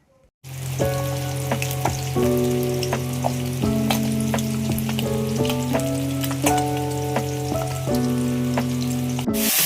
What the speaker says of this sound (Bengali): তারপর মাছগুলো এখন ভেজে নেব।